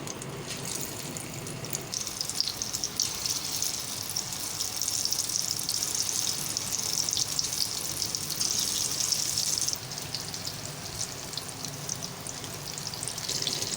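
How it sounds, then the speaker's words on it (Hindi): Moong dal pakoras frying in hot oil over a medium flame, a steady, dense sizzle and crackle that holds at an even level throughout with no talking. "इसे मीडियम फ्लेम पे फ्राई करना है जब तक नीचे से हल्के से गोल्डन ना होने लगे।"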